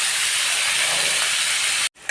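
Onion, carrot and beans go into a hot wok for prawn and egg vegetable fried rice, giving a loud, steady, hissing sizzle up close that cuts off abruptly near the end, no one talking.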